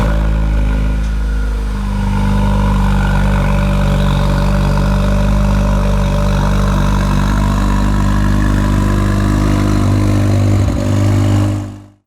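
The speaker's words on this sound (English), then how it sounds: "Let's now hear how the exhaust sounds." Exhaust of a 2019 Dallara Stradale at a loud, close, steady idle with a deep throbbing rumble, holding evenly for about twelve seconds before cutting off abruptly at the end.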